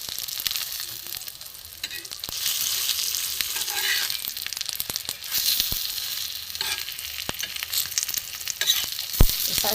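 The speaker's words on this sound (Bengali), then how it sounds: "ভাজা হচ্ছে। এপিট ওপিট করে ভালো করে ভেজে নেব।" A healthy children's tiffin snack shallow-fries in a little oil, a steady hissing sizzle close up, broken by soft scrapes and taps as the pieces are turned over in the pan.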